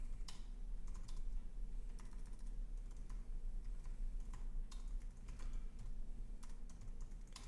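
Computer keyboard typing, a steady run of light clicky keystrokes at moderate distance with no voices.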